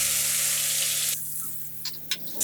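Cumin, asafoetida, green chilli and onion hit hot oil with a bright hissing sizzle that starts loud and then fades, followed by a few short scraping stirs near the end.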